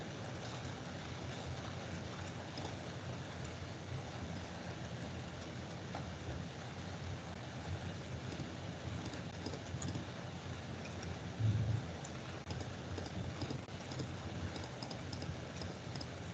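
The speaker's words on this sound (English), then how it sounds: "Oh, it's raining." Rain falls outside as a steady, even hiss of many drops, a dense wash of noise that holds at a constant level throughout with no voices over it.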